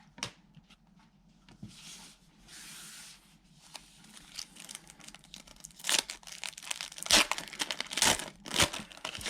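Foil wrappers on packs of 1990 Score baseball cards crinkle and tear close by, quiet fumbling at first and then louder, sharper rips and crackles bunched toward the end.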